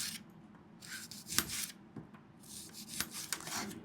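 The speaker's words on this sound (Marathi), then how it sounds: "हे कांद्याचे पीसेस असे बारीक करून घ्यायचे आणि एकदम पातळ कापायचे" A knife thinly slicing onion for a chicken sandwich, heard as a few soft rasping cuts and board taps in an uneven rhythm, fairly faint and close, with no talking.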